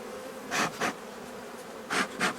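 Honeybees buzz around an opened hive during frame handling, a steady low drone with several louder passes as individual bees fly close to the microphone, no talking.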